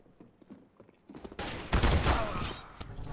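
Gunfire in a video game, a burst of rapid overlapping shots erupting after a second of quieter footsteps and clatter, loud and close, then trailing off.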